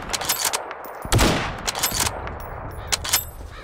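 Gunshots in Garry's Mod ring out as a few sharp reports spaced apart, each trailing a brief echo, with game ambience and scattered noise around them.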